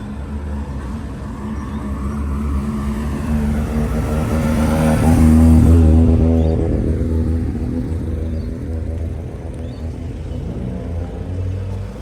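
A car rumbles past at a Cars & Creatures car meet, engine note swelling as it approaches, peaking loud and close midway, then fading slowly as it moves off.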